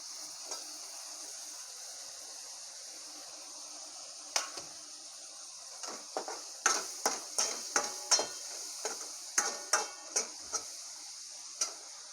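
Tomatoes fry with spices in hot oil, a steady sizzle throughout broken by a series of sharp spatula clicks and scrapes in the pan, close and moderately loud, with no talking.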